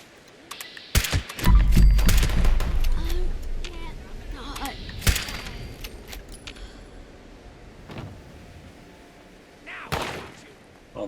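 Gunfire from the video game Fallout 76, with a few sharp shots and bursts scattered across the stretch amid game ambience and clatter, while a player talks over the action.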